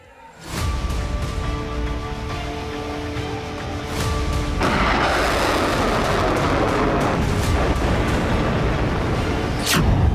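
Heavy, continuous booming and crackling of weapons fire, loud and sustained with sharp blasts throughout and no voices.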